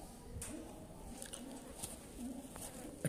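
Breeder's fancy pigeons coo softly and intermittently in a loft in Kasur, their low murmurs blending with faint bird chatter and light background noise throughout.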